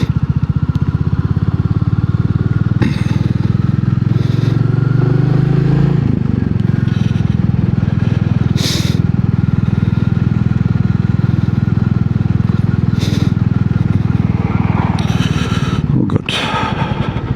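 A Royal Enfield Meteor 350 motorcycle is ridden on the road with a loud, steady engine drone and rushing wind throughout. A rider briefly exclaims over the noise.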